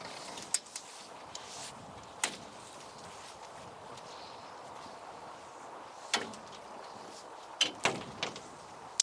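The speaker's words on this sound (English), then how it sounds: "quite windy today, so the door's going a bit crazy" Polytunnel door on a windy allotment, banging and rattling in sharp separate knocks, single thumps then a quick cluster near the end, over a steady bed of wind noise with no voices.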